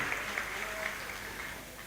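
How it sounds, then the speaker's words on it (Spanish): An audience at an education and culture colloquium claps to welcome a guest, a soft continuous patter of applause heard faintly at a distance, with no clear talk over it. "Con un caluroso aplauso le damos también la bienvenida en nuestro saludo."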